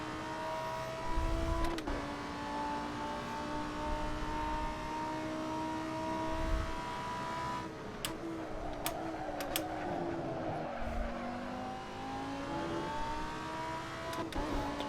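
Race car engine lapping a track in the sim racing game Assetto Corsa, a steady droning whine that climbs and drops through gear changes, with a few sharp shifts and brief braking dips, loud and continuous with no voices.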